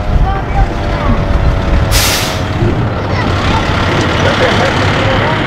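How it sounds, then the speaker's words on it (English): A fire truck with air brakes rumbles nearby under a loud mix of voices, and a sharp hiss of released air brakes bursts out for about half a second partway through. "Is that a fire truck?"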